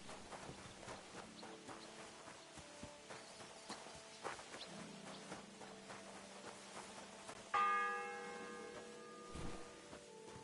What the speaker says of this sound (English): The first bell.